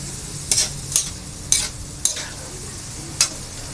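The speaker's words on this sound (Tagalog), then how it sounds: "Haluin ko lang po." Lumpia filling with sweet potato stirred in a pan, five distinct scraping strokes of a utensil at irregular intervals over a faint sizzle, close and clear.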